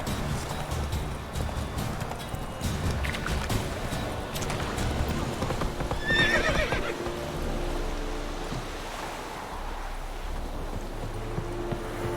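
A horse in The Witcher 3 whinnies once midway over a steady rumble of hooves and ambient game sound, fairly quiet and with no voices.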